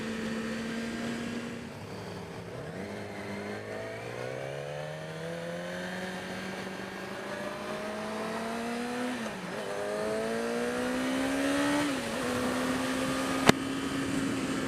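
A Yamaha motorcycle engine, an R6 or FZ-07, hums steadily while riding, its pitch rising and falling with gentle throttle changes over continuous wind rush and road noise, with no talking.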